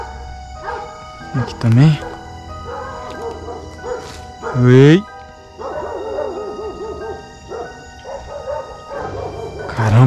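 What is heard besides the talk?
dogs barking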